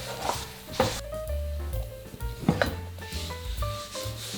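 Churro dough is stirred vigorously in a pan with a wooden utensil, giving close, repeated scraping and rubbing strokes in an uneven rhythm, with no talking.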